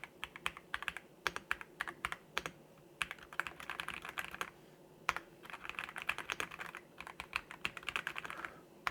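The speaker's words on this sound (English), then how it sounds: "the actual noise of the actual keyboard" An ELMWAY KZZI K68 Pro mechanical keyboard with cushioned switches is typed on steadily, its keys clacking in quick, irregular bursts with short pauses, close and clear.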